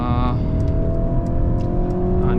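A 2023 Mercedes C300 4MATIC sedan accelerates with a steady, loud engine drone and road roar from inside the cabin, constant throughout with no break.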